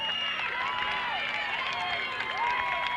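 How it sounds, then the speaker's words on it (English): Crowd noise at a high school football game between Weymouth and Framingham, with a broad wash of fans and faint clapping running steadily under a nearby voice. "Weymouth fans just clapping to my right, trying to give that little emotional boost"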